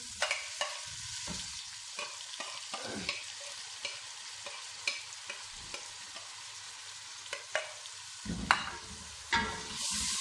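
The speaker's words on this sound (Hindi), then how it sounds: "अब इसके अंदर टमाटर डालते हैं।" Chopped tomatoes hit a hot pan of fried ginger, garlic and onion and sizzle steadily, with scraping stirs and occasional clinks of a spoon, close and moderately quiet.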